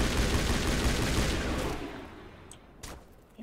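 Dense burst of video game weapon fire in Mass Effect, a loud continuous stream of rapid shots that fades out after about two seconds, followed by a couple of faint isolated pops.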